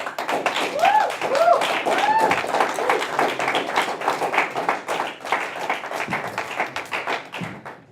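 Dense, continuous clapping from a live poetry open-mic audience, steady and fairly close, with a few voiced cheers rising over it early on.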